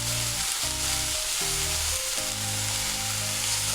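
Red, green and yellow bell peppers fry in a pan over low heat, giving a steady, close sizzle that runs unbroken throughout, with a few soft stirring scrapes and no voices.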